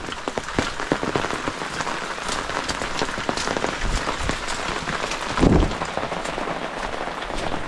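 Heavy rain in a Konkan village falls steadily, pattering close by with scattered sharper drops and a brief heavier thud partway through.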